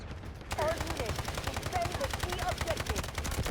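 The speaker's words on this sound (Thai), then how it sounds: "โอ้โหยิงเกือบหมดแม็กตัวเดียว" Rapid automatic gunfire emptying nearly a full magazine in the shooter game Delta Force, a dense fast string of loud shots after a brief quieter start, heard over game sounds.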